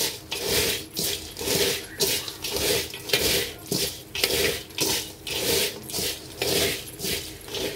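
Crunchy chanachur snack mix is tossed and stirred with spices in a bowl, giving rhythmic rustling scrapes roughly every half second, close and steady with no voice.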